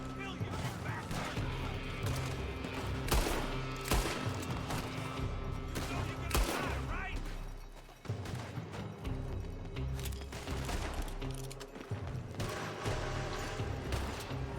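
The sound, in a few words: gunfire in the video game Red Dead Redemption 2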